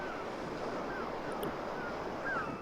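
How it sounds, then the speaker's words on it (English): Ocean waves crash on a shore in a 1978 film, a steady broad wash of surf with wind noise that swells slightly near the end, with no speech. "you're hearing the waves crash"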